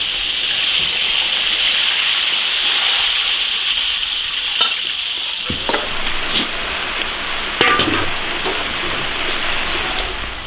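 A whole duck deep-frying in hot oil in a large iron wok makes a loud, continuous hiss and crackle, close up, with a few sharp clinks and bumps partway through.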